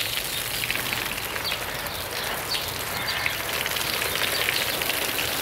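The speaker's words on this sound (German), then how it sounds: "Achtung. Es regnet." Steady rain falls continuously for the whole stretch, a dense, even hiss of drops close by with no voices over it.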